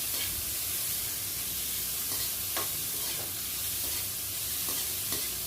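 Beetroot and beans sauté in a pan with no water added, a soft continuous sizzle broken by occasional scraping stirs, close and moderately quiet.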